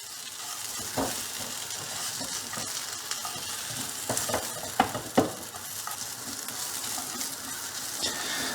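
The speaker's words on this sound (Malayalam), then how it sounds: "ഇത് ഒരു മിനിറ്റോളം ഈ കൂടി ചേർന്ന് നന്നായിട്ടൊന്ന് മിക്സ് ചെയ്ത് കൊടുക്കും" Dried manthal fish being stirred with masala in a hot pan: a continuous quiet sizzle broken by scraping strokes and a few sharper clatters of the spoon against the pan.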